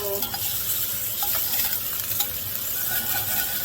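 Tomatoes sauté and char in a hot pan, a dense steady sizzle with bright crackles and occasional scraping as they are moved about, close and without speech.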